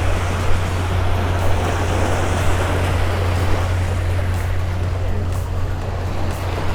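Steady ocean surf at a Florida beach rolls on as a continuous broadband wash, with a strong low rumble of wind buffeting the microphone underneath.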